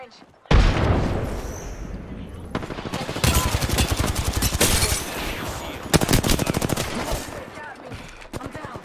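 Rapid automatic gunfire and bursts of shots fill a round of the video game Apex Legends, loud and dense, with booming impacts over game sounds and occasional callouts.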